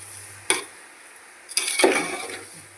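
Grated carrot and sugar stirred for carrot halwa, two short scraping clatters of a spoon against the pan separated by a pause, close and fairly quiet.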